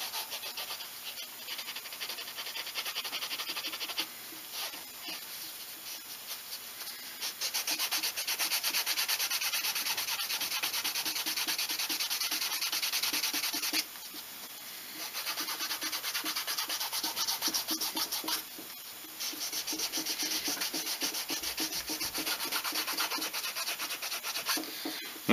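Canvas is rubbed briskly back and forth along the edges of a handmade leather wallet, a steady close scratchy friction in long strokes broken by brief pauses, with no talk.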